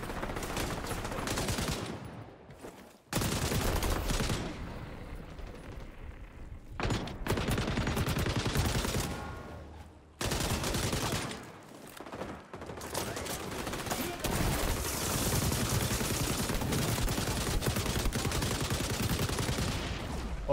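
Rapid automatic gunfire from an XDefiant match, loud and near, in sustained bursts broken by short pauses and overlapping shots.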